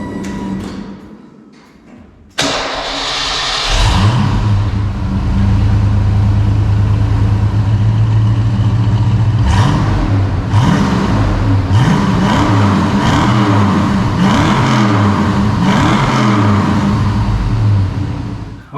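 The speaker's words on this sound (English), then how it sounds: "let's get ourselves a little before clip of the Ford OE stock exhaust headers" A Ford car with stock OE exhaust headers and 2.5-inch tailpipes starts with a loud catch, idles steadily, then is revved repeatedly in rising and falling bursts, loud and close with no talk.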